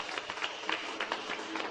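A church congregation applauds during a sermon, with dense, quick clapping at a fairly distant, low level and small uneven peaks throughout.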